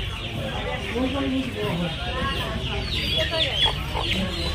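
Chickens cluck steadily at a busy poultry market in Nepalgunj, a dense flock chattering close by, with someone talking over the birds throughout.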